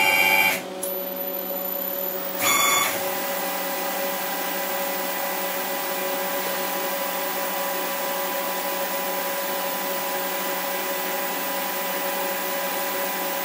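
A CNC lathe running a short program and cutting only air. Steady machine hum and whine with constant tones throughout, plus a brief louder burst near the start as the axes jog.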